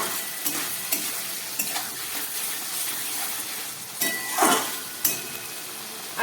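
Whole spices—cardamom pods, cinnamon and cloves—sizzling in hot oil in a pan, a steady bright frying hiss with stirring scrapes and a few clinks of utensil against metal.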